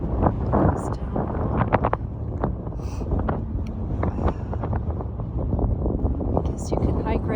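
Strong gusty wind buffets the microphone on an exposed lookout above a crater at Craters of the Moon, a loud continuous low roar with surging peaks. Scattered rustling and bumps sit over it, and a person talks briefly.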